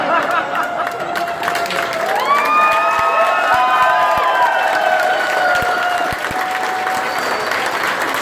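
An audience at a volunteer fire brigade ball claps steadily and loudly, with cheering and shouts rising above the dense applause throughout.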